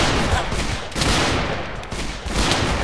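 Shotgun fire in a modded Minecraft attack on a military base: loud, noisy bursts of shots crowd together in quick succession, close and harsh, with no clear gaps.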